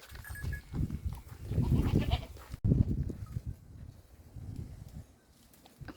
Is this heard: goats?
yes